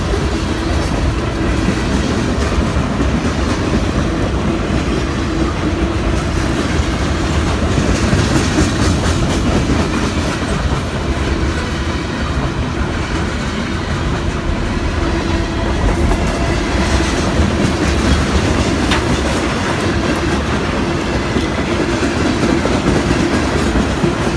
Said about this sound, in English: 118 ran out of Brosnan Yard in Macon, Georgia, carrying mixed manifest bound for Linwood,